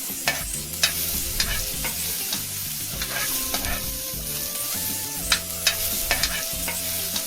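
Ground shallots and masala sautéing in a pan for red bean gravy, with a lively sizzle under repeated spatula scrapes and stirring clatter, close and steady, no voices.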